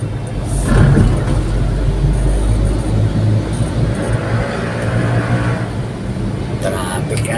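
City street traffic backed up at a stoplight near Nicanor Reyes Street and España: idling and accelerating cars with engine rumble throughout, loud and close, while people talk over it.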